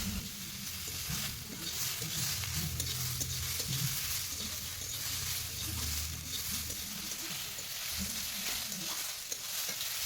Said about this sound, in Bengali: আবারও সব কিছু উপকরণ একসঙ্গে মিশিয়ে হালকা নাড়াচাড়া করে ভেজে নিব